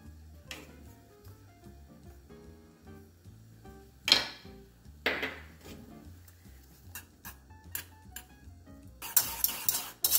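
A whisk clinks and taps against a pot as cream cheese is stirred into warm milk, with scattered metallic knocks and scrapes at an irregular rhythm and a louder rattling burst near the end.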